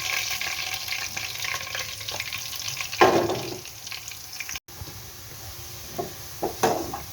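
Onions fry in hot oil for a rohu fish curry with water spinach, giving a close, steady sizzle with spatula scrapes and stirring knocks, a louder scraping burst partway through and a few taps near the end.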